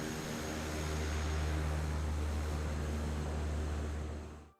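Steady, loud drone of a firefighting airplane's engines and propellers in Microsoft Flight Simulator 2024, a continuous low hum with broadband roar, holding level for several seconds then cutting off abruptly.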